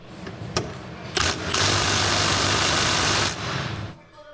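An impact gun spins on hub bolts in a C5/C6 Corvette Z06 rear knuckle, a loud, close whirring burst of about two seconds with short hammering bursts before it and a fade after.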